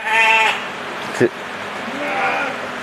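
A sheep bleats loudly near the start of a breeding pen scene, then a shorter call follows over steady farm background noise.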